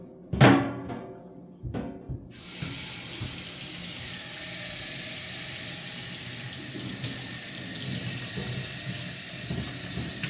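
Very hot water gushes steadily from a tap after a few knocks and clatters, a continuous close rushing stream that fills the rest of the time.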